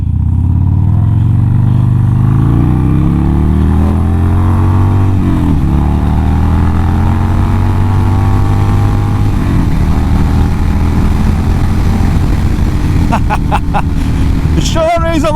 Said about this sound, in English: It sure is a lot of fun when you open up the throttle on this bike.